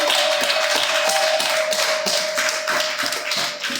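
A church congregation claps together in praise, a dense run of quick, fairly even hand claps with a sustained tone ringing under it throughout.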